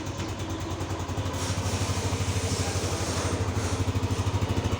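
A Yamaha NMAX scooter engine runs steadily close by, a loud, even idle with a fast regular pulsing throb and a light mechanical clatter, no voices over it.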